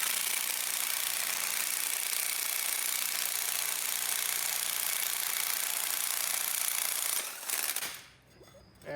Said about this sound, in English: could probably finish it off with the impact wrench from there